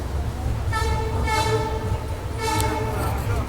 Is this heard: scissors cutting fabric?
no